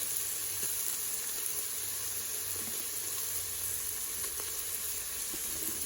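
Chopped onions and celery saute in a pan for a Moroccan vegetable soup, giving a steady, soft, even sizzle that stays close and fairly quiet throughout, with no talking.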